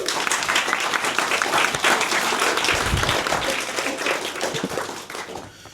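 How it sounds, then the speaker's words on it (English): Wedding guests give a round of applause for the parents during the speeches at a barn wedding venue, a dense, lively clapping from a roomful of people that swells and then fades out toward the end. "can I have another round of applause for the parents, please?"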